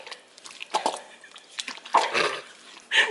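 Sourdough mixed by hand with a cupping motion gives wet, sticky squelches and slaps in irregular bursts, close and fairly loud, with no talking.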